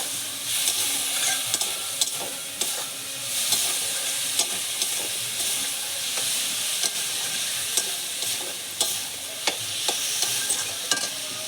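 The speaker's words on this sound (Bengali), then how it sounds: "এবার সমস্ত মশলাগুলো দিয়ে দেবো, আর একটু ডিশটা ধুয়ে দিয়ে দেবো, দিয়ে এবার ভালো করে কষিয়ে নেব।" Spices sizzle and fry in a pan for a mola fish curry, a steady crackling hiss with regular scraping stirs and light knocks of the spoon, close and alone throughout.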